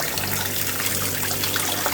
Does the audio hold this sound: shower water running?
yes